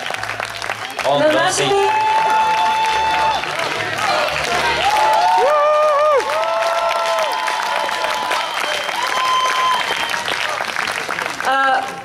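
An audience breaks into loud sustained applause and cheering for the DJs at a live event, with clapping filling the room while a presenter keeps speaking over it and musical tones sound in the background.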